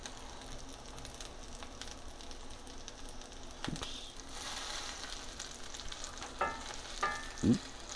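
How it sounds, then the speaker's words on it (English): Salmon cakes frying in a pan give a low, steady sizzle with brief stirring or scraping bursts near the end, close and without talk. "Should hear a little sizzle."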